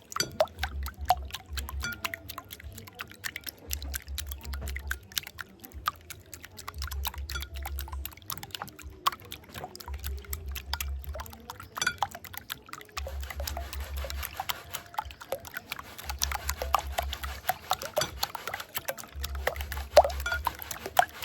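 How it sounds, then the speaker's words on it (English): Eggs for a Jamaican Christmas fruit cake are whisked outdoors, giving faint rapid clicking and patter that comes in regular short bursts separated by brief pauses. "so I go whisk them up"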